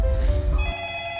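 A telephone rings with a steady electronic tone at a police station in a film scene. A low rumble sits under the first part of the ring.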